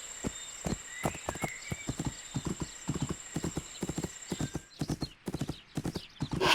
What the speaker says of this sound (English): I should change to a gallop and give it a try